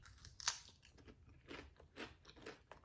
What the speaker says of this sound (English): It's got a solid crunch